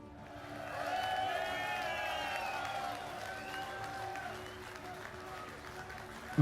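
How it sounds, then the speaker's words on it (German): A live audience at a Star Citizen fan show in Cologne applauds in a sustained, even wash of clapping and crowd noise that holds for several seconds before tapering slightly. "Jetzt klatschen sie, dass er hochgeht."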